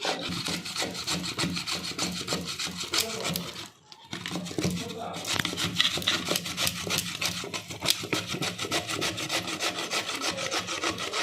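Raw giant taro (mankochu) is grated by hand, a steady, close rhythmic rasping that continues almost without pause, with one brief break before resuming.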